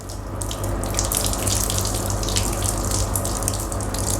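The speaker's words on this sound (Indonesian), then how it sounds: "Siram dari ujung kepala sampai ujung kaki." Water poured over a person from head to toe during a ruqyah ritual bath, a steady, close rushing and splashing stream that runs without a break for the whole stretch, with no talking.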